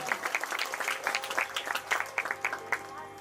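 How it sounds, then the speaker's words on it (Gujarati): A village religious gathering breaks into brisk, dense clapping that holds steady for a few seconds, moderately distant, with no one speaking. "એકવાર જોરદાર તાળીઓથી અમારા અજય કુમારને વધાવો"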